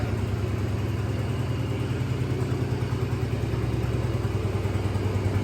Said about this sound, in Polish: Największy z możliwych motocykl klasy 125 typu Chopper Cruiser.